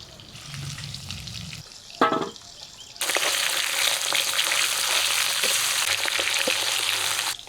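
Pieces of katla fish hit hot oil in a wok and a loud, steady sizzle of frying takes over, crackling continuously after a brief clatter.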